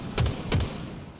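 Gunfire in a first-person shooter video game: two separate bursts of shots, each followed by a low thud, fairly close and moderately loud, with quiet ambience in between.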